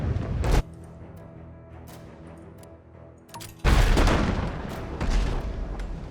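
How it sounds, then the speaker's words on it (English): Ship cannons fire in the FTL Faster Than Light video game: a short heavy boom opens, then after a quieter stretch with faint clicks a second, louder blast rolls out and rumbles for several seconds. "And we'll fire our cannons."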